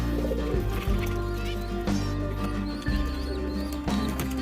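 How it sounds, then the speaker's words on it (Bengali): Domestic pigeons by a pond coo and call softly amid a busy outdoor background, with repeated low murmuring calls throughout. "পুকুরে পায়রাগুলো একটু আপনাদের দেখাই"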